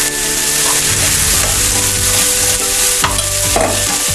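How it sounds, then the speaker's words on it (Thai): Bacon, ham, shallots and turnip cake filling stir-fried in a pan, a loud steady sizzle with repeated scraping strokes of a spatula throughout, no voices. "พอหอมสุกแล้วนะคะ เราก็จะใส่เครื่องทุกอย่างลงไปผัดด้วยกันเลยค่ะ"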